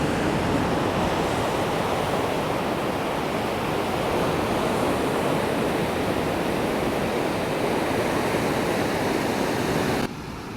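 Ocean surf at Dana Point, California rolls in as a steady, dense broadband wash, loud and close with little variation, easing slightly in the final moment.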